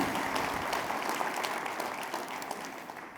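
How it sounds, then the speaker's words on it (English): A conference audience claps together in sustained applause for about three seconds after an opening address, a dense even patter of hands that fades slightly toward the end. "please join me in giving them a heartfelt round of applause"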